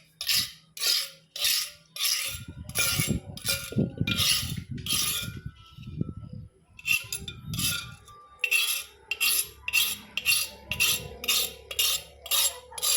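A spoon spreads yogurt around the inside of a clay pot in a run of quick, rhythmic scraping strokes, close up. The strokes pause briefly midway over a low rumble, then resume with no voices.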